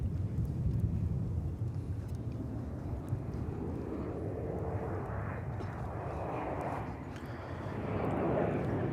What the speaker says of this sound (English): This is a Mesa Airlines CRJ 900 coming in from Baton Rouge, Louisiana.